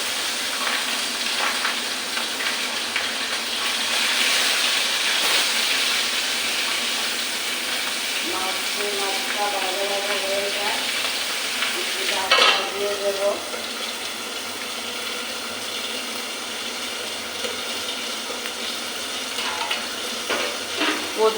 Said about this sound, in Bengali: কড়াইতে তেল গরম হয়ে গেছে এখন মাছটা